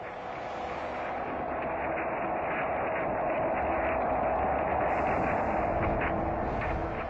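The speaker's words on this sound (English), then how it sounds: "this is the sound of the sun" A dense, rumbling wash of noise with a hissing, roaring texture, steady and unbroken, like deep static rising slightly in level; the sound of the sun as picked up by the orbiting SOHO satellite.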